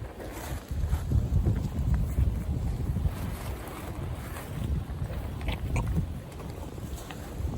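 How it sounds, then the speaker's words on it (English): Gusty wind blows through trees along an outdoor trail. It makes a continuous low rushing roar with heavy rumbling buffets, and no voices are heard. "Love the sound of the wind in the trees."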